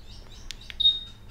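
Two short electronic chirps from a Honda PCX 150 (2020) motorcycle key fob alarm, followed by a longer steady high beep, fairly loud against quiet background.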